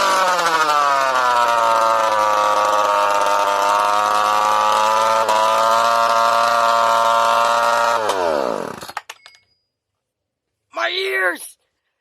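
A weed eater two-stroke engine fitted with an expansion chamber screams at high, steady revs, very loud and close, then winds down and cuts out; after a short silence a voice speaks briefly.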